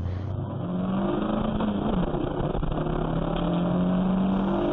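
A race car laps Knockhill circuit in practice for a Scottish club championship round, its engine droning steadily from inside the cockpit and rising and falling in pitch through gear changes and corners.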